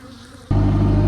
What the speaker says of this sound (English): But the bees, they've got active, it's hot.